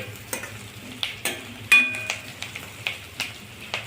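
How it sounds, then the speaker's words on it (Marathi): Moong dal and curry leaves are stirred and sautéed in a pan until golden, giving soft sizzling under repeated scraping strokes of a spoon, close and moderately loud, with no voices. "आता तुम्ही पाहता मुगाची डाळ पण सोनेरी रंगावर परतून झाली आहे."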